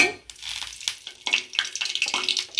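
A spoonful of ghee hits hot soybean oil with cinnamon, cardamom and clove, setting off a close, crackling sizzle with sharp spits and pops.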